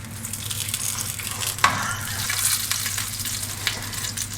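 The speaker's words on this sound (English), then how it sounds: "get your sausages, and we're just going to brown them off nicely in the pan" Sausages browning in oil in a pan, a soft continuous sizzle under a low steady hum, with one sharp clack of a utensil partway through and a faint spatter later.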